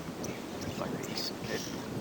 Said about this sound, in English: Good thing about the wind is it blows the insects away.